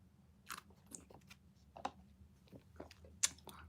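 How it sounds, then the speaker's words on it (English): Close, soft chewing of coconut jelly from a drink, with irregular wet crunches and squishy bites spread over a few seconds and no talking. "that's why I'm chewing, because it's got this coconut jelly in it"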